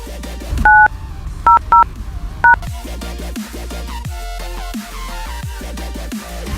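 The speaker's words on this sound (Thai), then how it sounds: "ตรวจสอบการใช้งานแพ็กเกจเสริม กด ดอกจัน 900 ครึ่งหมายสี่เหลี่ยมโทรออกครับ" Four short, clean phone keypad tones sound one after another in quick, uneven succession as a USSD code is dialed on a mobile phone. Each beep is loud and close, followed by other steady sound.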